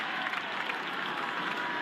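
A rugby league stadium crowd at a 2003 Canberra versus St George-Illawarra match roars steadily as a player takes a quick tap and appears to score, a broad sustained cheer with no pauses.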